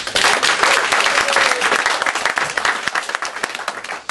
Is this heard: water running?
no